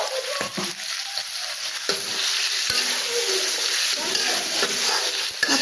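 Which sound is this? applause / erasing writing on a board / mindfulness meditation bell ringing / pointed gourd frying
pointed gourd frying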